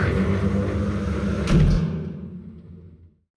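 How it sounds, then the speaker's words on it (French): Heavy doors in a mine open with a sustained low rumbling grind and a sharp metallic clank partway through, then the sound fades out into silence. "Enfin, le bruit des portes retentit"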